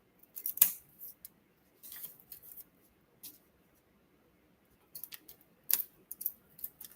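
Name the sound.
scissors cutting paper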